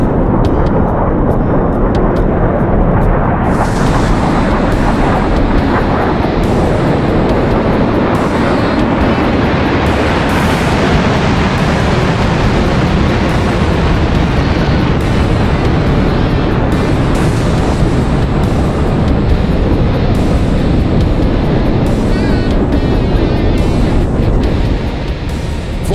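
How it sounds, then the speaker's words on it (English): The General Electric J79 engines of an F-4E jet in the DCS flight game roar at takeoff, a loud, dense, continuous blast that swells early and holds for the full stretch, with no talking. "get ready to hear the sound of the General Electric Axial Flow J79 engines as the Legend is about to return to the skies"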